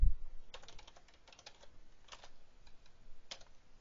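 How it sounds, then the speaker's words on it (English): Computer keyboard typing, quiet irregular key clicks in short bursts, close but faint, with no speech. "we're going to type in exactly what we want"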